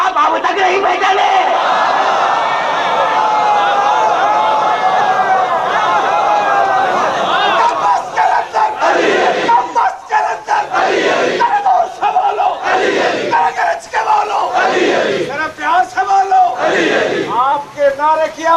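At a Shia majlis gathering, a large crowd shouts religious slogans, first a sustained loud roar of voices, then repeated rhythmic chanted bursts in call-and-response fashion, close and powerful.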